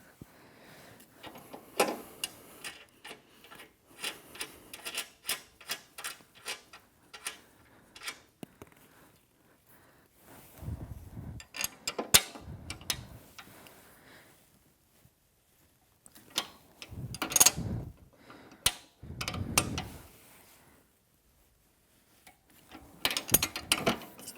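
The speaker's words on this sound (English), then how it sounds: "I'm going lefty-loosey here, or as Ken would say, counterclockwise" A wrench loosening a carriage wheel bolt counterclockwise on an Allegro 2 Reformer, quiet repeated ratcheting clicks in several bursts separated by pauses, close up with no talking.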